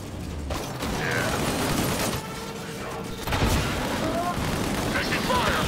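Gunfire in the sci-fi shooter Disintegration, a dense, continuous clatter of shots and mechanical noise with explosive thumps, loud and close throughout, with voices talking over the battle.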